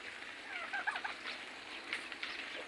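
Chickens cluck and chatter in a busy farm flock being fed, several birds calling over a steady outdoor background noise, with no one speaking.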